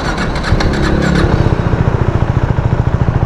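A Suzuki GSX-R 600 sportbike fitted with a new aftermarket exhaust revs loudly up close, then settles into a rapid, throbbing idle with a steady pulsing beat, with no talking.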